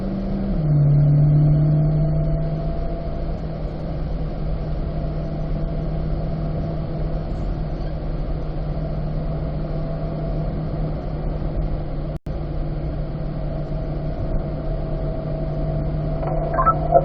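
Chevrolet Corvette C8 race car lapping Spring Mountain Raceway, its engine a continuous droning roar with a steady whine, heard from inside the car with slight pitch shifts and a brief dropout partway through.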